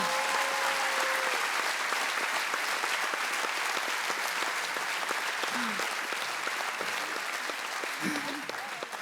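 A comedy show audience applauds a woman who sang along onstage, with dense, sustained clapping throughout and a few faint voices poking through near the end.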